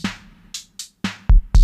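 A Roland MC-303 kick drum pitched down to -9 gives deep, booming thumps, with two heavy hits near the end following lighter clicky transients and short hissy bursts, played alone in a sparse pattern.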